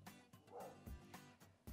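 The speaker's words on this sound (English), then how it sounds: "excuse us while our dog finishes his temper tantrum" A poodle and Italian water dog cross barks and whimpers through a tantrum, giving several short, faint yips and whines in quick, uneven succession.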